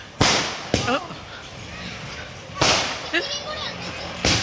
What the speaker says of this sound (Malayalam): തൊട്ടപ്പുറത്തെ വീട്ടിൽ പടക്കം പൊട്ടുന്നതാണ്.